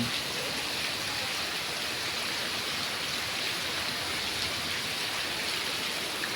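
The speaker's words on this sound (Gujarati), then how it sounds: "અમદાવાદમાં વરસાદ આજ થયો છે" Heavy rain pours over Ahmedabad streets in a dense, steady hiss, loud and unbroken throughout with no voices, only continuous broadband downpour close by.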